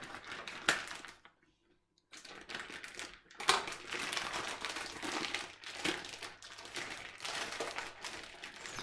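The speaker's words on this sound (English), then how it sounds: "So I'm going to take the gammon out of its packaging." Crinkly plastic rustles and crackles in uneven bursts as gammon packaging is pulled and torn open, close up, with one brief pause.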